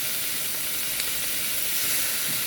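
Pork pieces for adobo sizzle and spatter steadily in a hot pan, a dense continuous hiss with sharp pops of splattering oil, loud and close with no one speaking.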